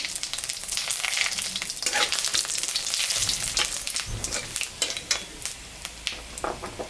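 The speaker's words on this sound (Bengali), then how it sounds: "শুকনো লঙ্কা, দুটো এলাচ, দারচিনি, সম্বরা দিয়ে দিলাম।" Dried red chillies, cardamom, cinnamon, cumin and bay leaves sizzle in hot oil for a lentil dish, a loud crackling fry broken by sharp spattering pops and a few stirring scrapes, with no voices.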